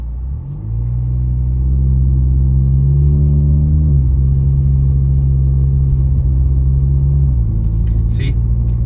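A VW Jetta MK7 with its resonator and muffler deleted drones loudly from inside the car, the engine note rising and settling as it changes gears in automatic sport mode, a steady low rumble throughout.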